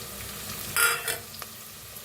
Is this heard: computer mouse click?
no